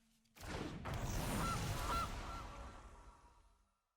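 A goose honks loudly in the MTG Arena digital card game, one sustained, raspy honk lasting several seconds and fading out, with no talk over it.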